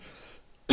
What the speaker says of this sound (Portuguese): Desculpa pela tosse aí.